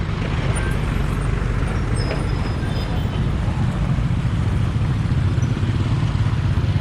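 A road vehicle passing close on a road in Davao City, a loud steady engine and tyre rumble that fills the whole stretch with no clear rise or fall, with no talk.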